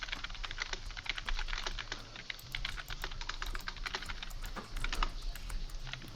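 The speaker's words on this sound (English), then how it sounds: "Alright, I was typing in chat" Rapid, irregular clicking of keys on a computer keyboard, steady and fairly close, with a low background hum and no voices.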